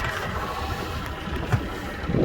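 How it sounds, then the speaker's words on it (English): A 2006 Contender 21 boat motor turns over and settles into a steady, moderately loud idle, with a low rumble running throughout and a slight surge near the end. "let's start the motor up"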